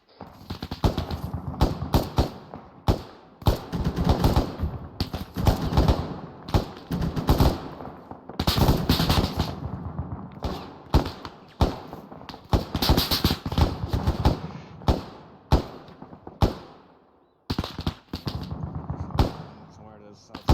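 Repeated sharp gunshots in irregular bursts during outdoor joint squad training, loud close cracks alternating with brief pauses across the whole stretch, with occasional voices mixed in.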